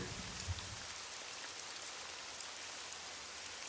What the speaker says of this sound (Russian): ну это фон типа дождь